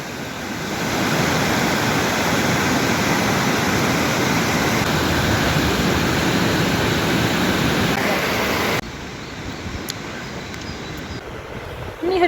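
A waterfall roars as a loud, continuous rushing wash of water that holds steady for most of the clip, then drops to a softer, more distant rush near the end.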